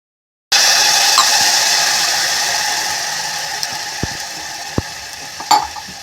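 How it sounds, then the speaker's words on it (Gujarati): Stuffed brinjals hit hot oil in a pressure cooker and sizzle loudly, a bright steady hiss that eases slowly, with a few sharp clicks and knocks from the pot. "જે તેલ ગરમ કર્યું છે તેમાં બરાબરના આવી રીતે વઘારવાના છે."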